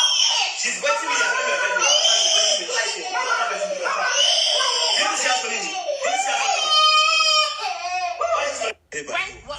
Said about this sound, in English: You can hear the small child crying in the background.